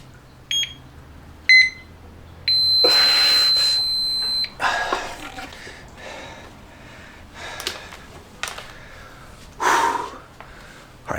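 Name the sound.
timer beeping during isometric exercise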